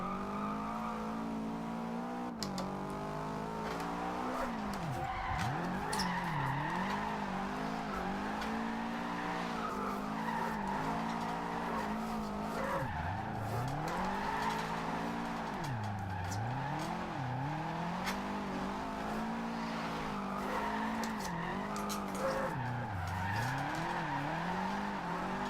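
Subaru WRX STI drifting through a corner in Forza Horizon 2, engine revving up and down in sweeping pitch swings with continuous tire squeal and skidding, loud and close for the whole stretch.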